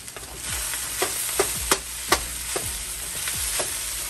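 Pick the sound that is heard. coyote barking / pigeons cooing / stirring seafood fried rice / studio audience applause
stirring seafood fried rice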